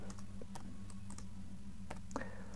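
Keystrokes on a computer keyboard while entering a rank formula in Microsoft Excel, a few scattered light clicks spread over a steady background hum, no talk.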